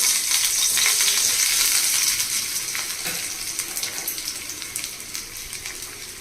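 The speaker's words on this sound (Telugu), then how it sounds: "ఒక రెండు ఉల్లిపాయలు తీసుకుని సన్నగా పొడవుగా కట్ చేసి ఫ్రై చేయాలి" Thinly sliced onions hitting hot oil in a pan, a loud, bright hissing sizzle that starts strong and slowly eases, with a few faint stirring taps toward the end.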